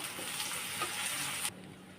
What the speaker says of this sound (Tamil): அந்த தக்காளியை போட்டு நல்லா அந்த தக்காளி வதங்குற வரையும் நல்லா வதக்கிக்கோங்க.